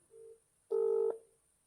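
A number is dialed on a mobile phone, two clear electronic keypad tones in succession, the second longer and louder, close and alone against a faint steady hiss.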